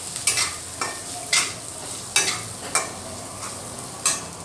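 Chillies and coarsely crushed peanuts sauté in a pan over a low flame, with soft background sizzling broken by about seven scraping stirs at irregular intervals.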